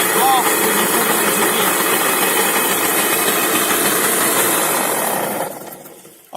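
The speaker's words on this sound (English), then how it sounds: "You want it to sit very quietly at idle" A mini motorbike engine runs steadily at idle, a continuous close buzzing drone that holds for several seconds before cutting out abruptly near the end.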